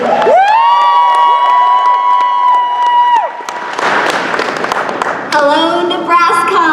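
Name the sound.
applause and cheering from convention crowd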